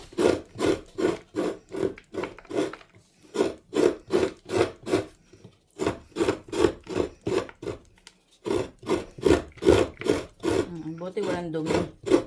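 Fresh coconut meat is scraped from the shell in a long series of rhythmic rasping strokes, each a gritty, loud scrape, with brief pauses between runs of strokes.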